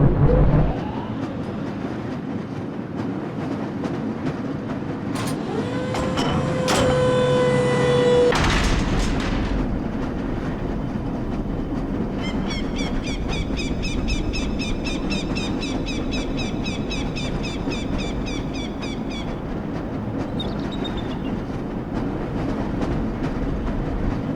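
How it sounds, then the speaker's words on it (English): Lever-controlled tram riding its rails in the video game Black Mesa, a steady low rumble and rattle of the car throughout, with mechanical clanks, a brief tonal whine, and repeated beeping chirps in the latter half. "This lever-controlled train will transport you to a location where your training associates are waiting for you."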